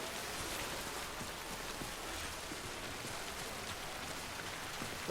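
Steady rain in the video game Death Stranding, a dense, even hiss of drops hitting the ground that holds at the same level for the whole stretch, with no voices over it.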